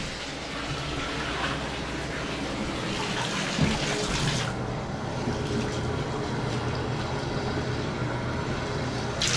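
Tap water rinsing out a pee bottle for a car, a strong continuous gushing and splashing stream that runs steadily, with a brief knock partway through and a slight change in tone after the midpoint.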